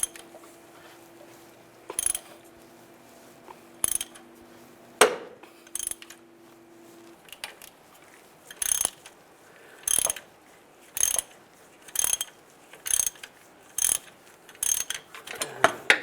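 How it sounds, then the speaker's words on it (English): A hand-tightened puller ratchets to draw a pulley off a 2007-2013 Chevy Silverado engine: a loud, close series of sharp mechanical clicks and clacks spaced about a second apart, with a faint steady hum underneath. "As I tighten it, it's just going to pull the pulley out."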